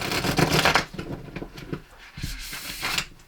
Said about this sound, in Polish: Ja no już tasowałam wcześniej te karty, więc tylko teraz tak na wizji, żebyście widzieli, że są jeszcze tasowane.